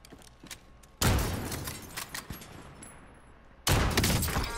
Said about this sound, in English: I use the rifle here.